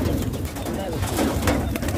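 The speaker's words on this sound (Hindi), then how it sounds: "ये देखें एक और कबूतर आया हुआ है दोस्तों" Pigeons coo softly amid a steady outdoor background, with murmured voices mixed in throughout.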